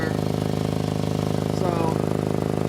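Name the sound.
exhaust leak at braided section, VW MK7 Golf R, engine idling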